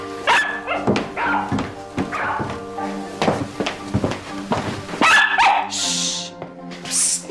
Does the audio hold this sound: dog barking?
yes